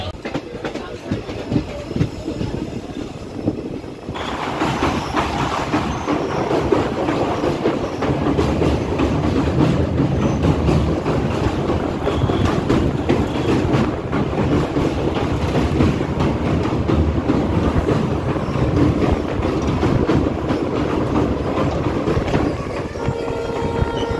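Dekargaon–Murkongselek 15813 express train on the move, a steady loud rumble with rhythmic clickety-clack of wheels over rail joints running continuously, quieter for the first few seconds before swelling to a sustained roar.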